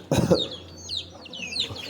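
Chickens cluck inside a coop shared with chicks and ducks, a loud burst of clucking at the start followed by softer chatter and high chirps, close by.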